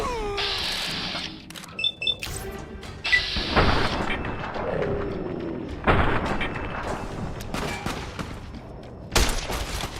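Gunfire in Fallout New Vegas comes in several sharp bursts and single shots amid game noise, with cat-like meowing cries mixed through the scene.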